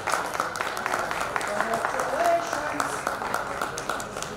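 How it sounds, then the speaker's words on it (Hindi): Steady applause from an audience at a youth leadership conference fills the room, even and sustained, with a voice audible over the clapping. "जोरदार तालियों के बीच।"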